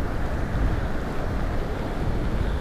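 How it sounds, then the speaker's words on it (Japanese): Sea waves and spray on the coast near Shimonoseki, Yamaguchi, heard while cycling: a steady, loud broadband rush of surf mixed with heavy wind buffeting the microphone, continuous throughout with no talking. "うわ、これ波しぶきかな。"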